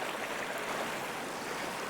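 Rushing stream water at a slippery rocky trail crossing in a desert canyon, a steady broadband wash of flowing water with no pauses, close and fairly loud.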